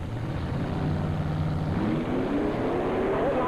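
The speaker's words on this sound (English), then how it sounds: "Somebody's got a little problems with the motor down there on the Zamora car, it sounds like." Small-block Chevrolet Camaro drag car at a dragway, its motor running rough with an uneven, lumpy drone that holds steady at moderate distance and rises slightly toward the end, no voices over it.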